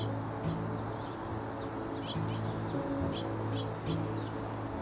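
Several birds chirp and tweet faintly at a distance, with short scattered calls over a low, steady background hum.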